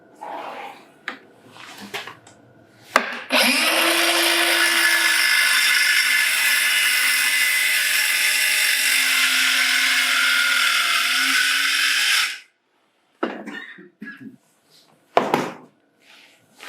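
A power saw cuts freehand through wooden cabinet dividers in a loud, steady whine that runs for about nine seconds, framed by brief handling knocks and short bursts of talk before and after.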